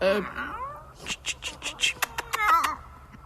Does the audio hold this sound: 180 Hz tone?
no